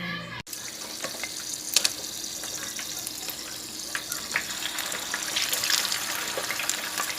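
Black-eyed peas heating in a hot pan give a steady, close broadband sizzle and watery hiss, with a few sharper pops and spits scattered through, no talking.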